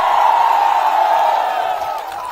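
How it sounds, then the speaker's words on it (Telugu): A large political rally crowd roars and cheers continuously and loudly, a dense sustained wall of voices with no break, fading slightly toward the end. "చప్పట్లు కొట్టి అభినందించండి."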